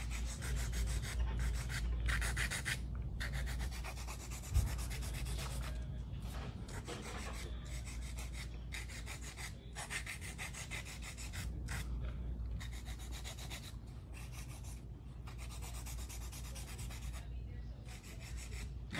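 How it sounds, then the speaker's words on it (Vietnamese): Nail file rasping back and forth across a pointed acrylic ombre nail, a steady rhythmic scratching in quick strokes with brief pauses, close and continuous, faint talking underneath. "Nhớ đặt cái dũa nè nghiêng, đặt cái dũa là phải nghiêng nha"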